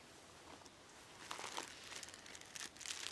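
Plastic bag from a bushcraft trekking first aid kit being handled, a steady close crinkling with brighter bursts of rustle toward the middle and end, no speech.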